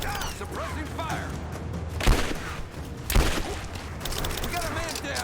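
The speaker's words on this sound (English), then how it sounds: "Suppressing fire now!" Suppressing gunfire in a Lara Croft video game, with two heavy, booming shots about a second apart amid scattered clatter and distant bursts, while a voice talks over it.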